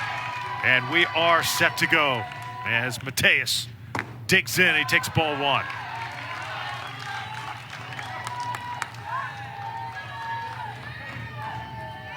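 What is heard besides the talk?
enthusiastic crowd at Little League baseball game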